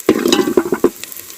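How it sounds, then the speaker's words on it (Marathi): Onions frying in a pan with quick stirring strokes, a few short scraping clatters over a steady sizzle, close and loud, with no talking. "एक साधारण 2 ते 3 मिनटं कांदो चांगलं परतून घ्यायचो"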